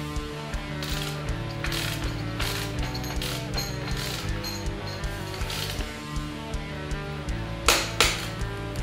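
A torque wrench tightens a KTM motorcycle's rear axle bolt to 80 Nm, giving a close run of rapid, regular ratcheting clicks with a few heavier clacks near the end.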